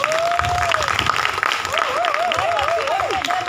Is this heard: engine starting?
no